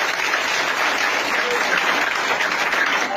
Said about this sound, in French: Applaudissez-vous pour nous.